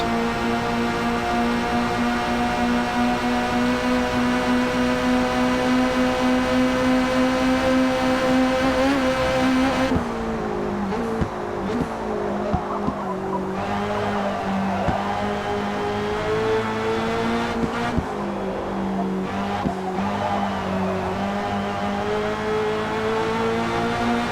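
A turbocharged Ford Escort with camshaft upgrade and sports tyres races in Forza Motorsport, its engine droning steadily and loud, then shifting and revving unevenly with brief gear changes and rising whine.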